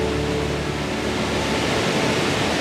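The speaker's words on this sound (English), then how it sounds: "Check out that waterfall." A large waterfall roars as a steady, dense wash of broadband rushing noise, constant and fairly loud throughout without any talking.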